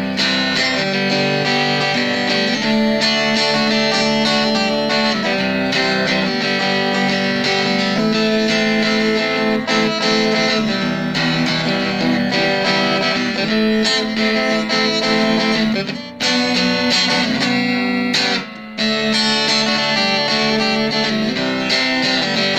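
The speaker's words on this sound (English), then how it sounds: "This is the neck pickup." Bunyip Country Legend electric guitar played through its neck pickup, a continuous run of strummed and picked chords with warm tone, loud and up close with no talking, with two brief gaps near the end.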